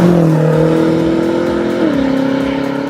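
A 2013 BMW M6 convertible's engine revs loudly and close, its exhaust holding a steady growl before the pitch drops as it eases off.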